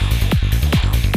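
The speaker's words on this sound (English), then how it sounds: "I've added automated flanger to it, so it sounds like this." A small electronic synth loop for psytrance, with a pulsing bass pattern and repeated downward swooshing sweeps from an automated flanger, loud and alone.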